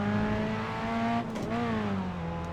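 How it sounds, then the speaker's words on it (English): A race car engine braking hard as the driver skip-shifts down to second gear, a loud steady engine drone that dips at a blip, then rises again and settles into a high revving whine, close and without talk. "I skip shifted there, went down to 2nd to really engine brake it."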